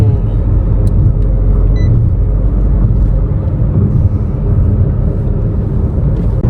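Car cruising on a Turkish highway toward Istanbul, a steady loud low road rumble and engine drone heard from inside the vehicle without pause.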